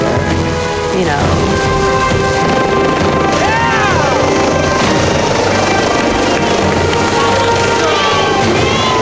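A helicopter's rotor blades thump and roar loudly and steadily throughout, close by and continuous, with faint voices buried beneath the noise.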